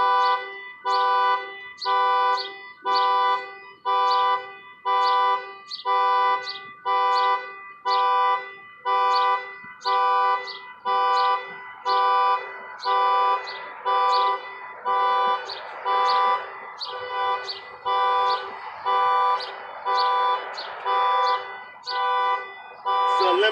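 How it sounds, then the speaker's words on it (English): A car alarm blares in a relentless loop of loud pulses, roughly one per second, for over twenty seconds; a voice talks faintly under the alarm. "tell somebody the alarm going off"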